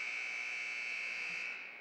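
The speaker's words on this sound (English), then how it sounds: "That was the long buzzer." A long, loud electronic buzzer sounds in a gym during a girls' high school basketball game, one sustained piercing tone that holds steady for the whole stretch before cutting off near the end.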